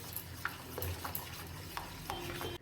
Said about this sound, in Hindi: अब मैं इसे अच्छे से मिक्स कर ले रही हूँ।